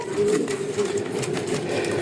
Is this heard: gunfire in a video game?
no